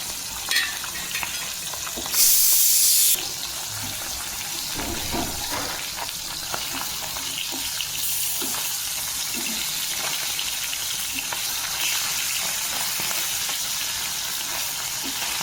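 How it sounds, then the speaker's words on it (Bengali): Tilapia fish sizzle steadily in hot mustard oil with a constant, close frying hiss. A brief louder burst of spitting rises early on before settling back into an even sizzle. "তেল কিন্তু গরম হয়ে এসেছে তো চলো এক এক করে মাছগুলোকে আমি ছেড়ে দিই"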